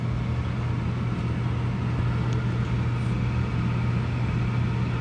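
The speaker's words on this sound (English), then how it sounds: "there goes the induced draft motor" A home gas furnace's induced draft motor keeps running after the gas is shut off, a steady low hum with an even whirring drone, close and constant, with no talking.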